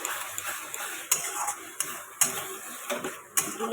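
Spice masala for a chicken gizzard and liver dish being stirred and sautéed in a pan, with repeated sharp metallic clinks of the spatula against the pan about every half second over a soft sizzle.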